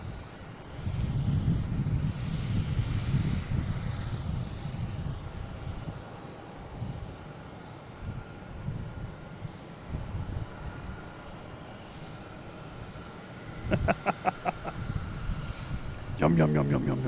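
A JetBlue airliner arrives at Boston Logan from Santiago de los Caballeros, its engines a low rumbling roar that rises and fades, with a voice heard intermittently over it and sharp clicking noises near the end.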